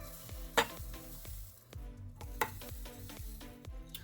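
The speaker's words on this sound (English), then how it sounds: "now I'm gonna add my oats in, my 3 cups" Oats being stirred into a thick boiled chocolate cookie mixture in a pot, with rhythmic scraping and stirring strokes and a couple of sharper knocks against the pan, close and fairly quiet, with no talking.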